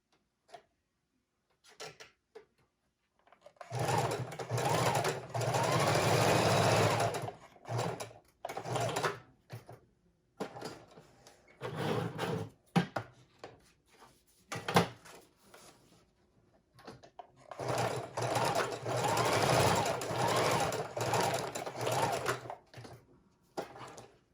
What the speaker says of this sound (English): I'm going to do some of these straight stitch again.